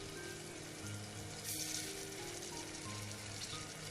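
Ginger garlic paste frying with onions and tomatoes in a pan for pressure cooker mutton kulambu, a steady close sizzle with a brief brighter hiss partway through, no talking.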